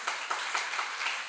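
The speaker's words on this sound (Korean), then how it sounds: "헌신한 사람들에게 우리 박수를 한번 쳐주시기 바랍니다" A church congregation applauding its teachers, a dense, even burst of clapping from many hands filling the short moment, fairly close and steady without voices.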